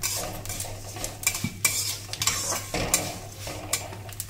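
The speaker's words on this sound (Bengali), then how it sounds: "দেখুন মা বারবার নাড়তে চাড়তে থাকছে" Vermicelli being stirred in browning ghee in a pan, with repeated scraping and clinking of a utensil against metal over a soft steady sizzle, close and unvoiced.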